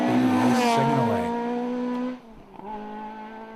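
A Subaru Legacy rally car on a stage at the Galway International Rally revs and sings past loud and close, then its engine note drops away into the distance.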